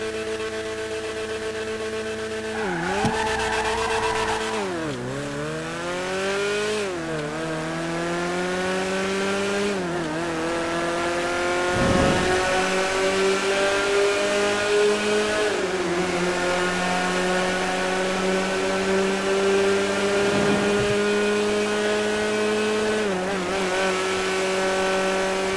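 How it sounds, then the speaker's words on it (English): Kia Stinger GT in GTA 5 roaring at high speed, loud engine climbing through revs with repeated gear shifts, pitch dropping and rising again, occasional tire squeal, with a burning sound from inside the car. "the Stinger GT sounds absolutely sick, man"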